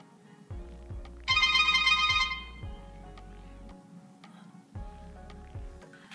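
An electronic ringback tone from a MIGUER A8 phone making an outgoing call pulses in short repeated bursts, with one louder bright chime, over a quiet background.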